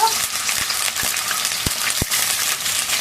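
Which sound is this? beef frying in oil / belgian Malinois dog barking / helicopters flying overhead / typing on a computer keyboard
beef frying in oil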